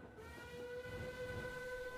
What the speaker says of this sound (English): We land, we're on a train.